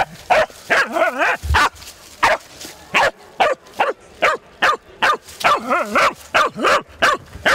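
A small hunting dog barks rapidly and repeatedly, close and loud, a string of sharp yips and barks with a few whining, howling calls mixed in, alone without talking.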